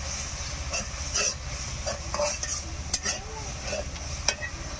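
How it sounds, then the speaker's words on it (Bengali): Spices for a village-style fish curry stir-fried in a pan, a steady sizzle with repeated scraping strokes of a spoon, close up and fairly even in loudness, no voices. "মশলা কষানো হয়ে গেছে"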